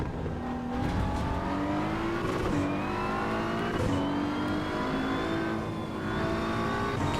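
Race car engine in Assetto Corsa Evo, racing at Watkins Glen, roars loudly and continuously, with pitch climbing through the gears and brief dips between shifts.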